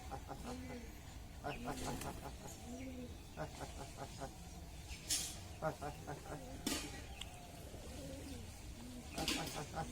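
Repeated soft, throaty pigeon coos roll in steady phrases through the clip, with occasional louder rustles and flutters in between.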